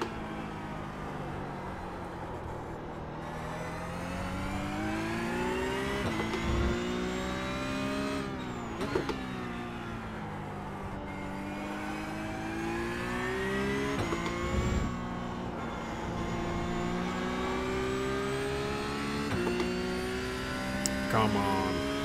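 A Porsche Cup race car engine in the iRacing simulator revs up and down through gear changes, its tone climbing and dropping repeatedly as it accelerates out of corners, loud and steady, with a voice talking over it.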